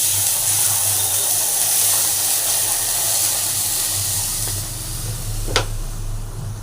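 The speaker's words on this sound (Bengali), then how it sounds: "এরপর আমি কড়া তাতিয়ে দিয়েছি, এরপর একটু পরিমাণ মতো জল দিব" Steady broadband hiss of steam as water is poured into a heated wok while making wheat sheetal, a low rumble underneath and a brief sharp sizzle burst near the end.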